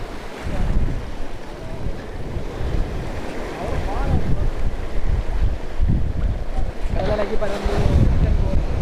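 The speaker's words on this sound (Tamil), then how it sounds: "கடல் நல்லா இப்போ அடிக்குது" Strong sea waves crash and wash steadily onto the shore, loud and continuous under heavy wind noise, with surf surges building toward the end.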